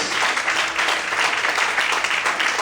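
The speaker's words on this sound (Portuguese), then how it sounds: "Você pode aplaudir ao Senhor, aleluia." A congregation in church claps together in a sustained, even burst of applause that fills the room, continuous and fairly loud with no talking on top.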